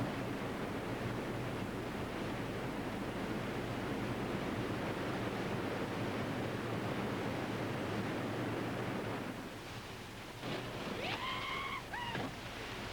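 Whitewater rapids on a slalom course rush loudly, a steady roaring wash that eases slightly near the end, where a few short shouts ring out over the water.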